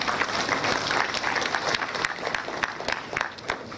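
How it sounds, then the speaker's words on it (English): Applause rises from a crowd at an anniversary lecture, a fairly quiet, continuous patter of many hands with scattered sharper claps, steady throughout the short stretch. "Round of applause for the place."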